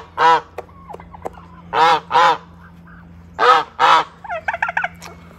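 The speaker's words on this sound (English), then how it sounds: "He gobbled." A tom turkey gobbles loudly and close by, in four harsh rattling bursts in spaced pairs, followed by a quicker string of short clucking notes.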